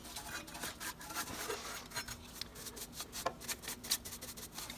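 A brush sweeps ash through the nooks of a wood stove firebox, giving soft, quiet, repeated scratchy rubbing strokes close by with no talking.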